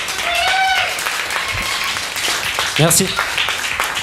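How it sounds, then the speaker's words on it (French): Applause from an audience at a live concert in a venue, moderate and brief, with a voice speaking over it and a short cheer near the end. "On peut l'applaudir bien fort."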